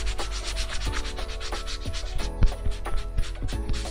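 Fingers rub back and forth across fabric printed with plastisol screen print, making a soft, rapid scratchy swishing with repeated strokes, close up and fairly quiet, no voices.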